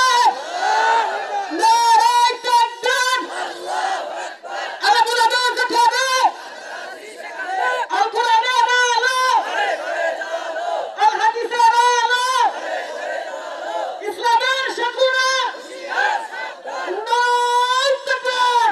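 A large crowd at an Islamic religious gathering chants slogans in repeated loud bursts of massed voices. The call-and-response rhythm returns every couple of seconds across the whole stretch.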